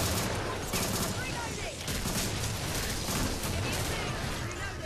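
Rapid gunfire from the zombie shooter Killing Floor while jump-shooting, dense bursts of shots and impacts rattling on continuously over a busy game mix.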